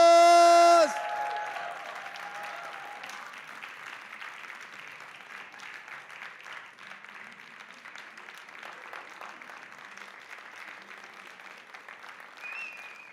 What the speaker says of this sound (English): Keep your hands warm because I need your best applause